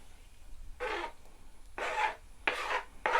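Minced beef with tomato and parsley being scraped in a pan: four short, raspy scraping strokes in uneven rhythm, close and fairly quiet, with no voices.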